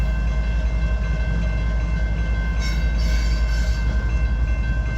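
A CSX light engine locomotive moving without cars rumbles past on the railway, a steady loud diesel drone with low rail noise and a brief brighter burst midway, no talking.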